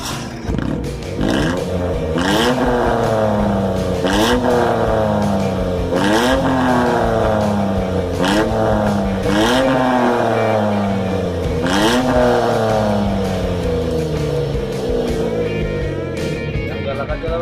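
A car engine, likely a Mitsubishi Mirage, breathes through an Alpino JS Racing aftermarket exhaust, revving up and dropping back in repeated roaring bursts about every two seconds over a constant loud idle, up close, with voices now and then.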